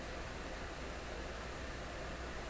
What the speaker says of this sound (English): what I'm sure is the hiss between stations right now